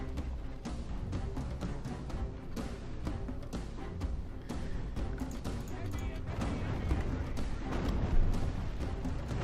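Volley fire in a Medieval 2 Total War battle, a dense, steady crackle of many overlapping shots and impacts that continues throughout, with battle noise underneath.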